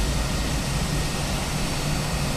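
Fenix A321 jet engine running in Microsoft Flight Simulator, a steady broadband roar with a low rumble underneath, constant and unbroken, with no talk over it.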